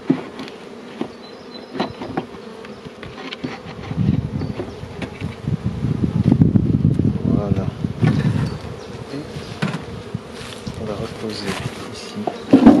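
A honeybee colony on eight frames buzzes inside an opened hive during a first-winter check, a steady droning hum overlaid with brief knocks and handling noises that swell in the middle.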